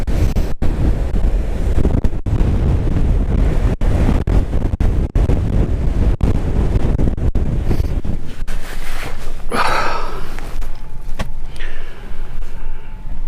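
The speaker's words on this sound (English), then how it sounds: "A wave broke all over me." Storm waves break on an exposed Anglesey shore at Aberffraw under strong wind, loud roaring surf and heavy wind buffeting the microphone, with sharp gust hits and a wash of water near the end.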